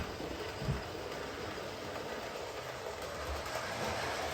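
A steady whirring rumble of a model train running along track, continuous and fairly quiet with no voices.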